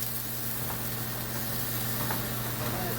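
Meat cooking on a charcoal grill grate under its lid, set over an indoor kitchen gas stove flame: a steady continuous sizzle and hiss with a low hum beneath, even and unbroken.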